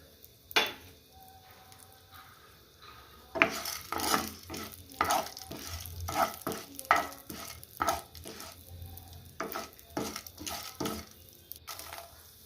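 Urad dal, chana dal, cumin and a few fenugreek seeds being dry-roasted and stirred in a pan, with a steady low sizzle broken by repeated scraping strokes of a spoon, close and fairly loud.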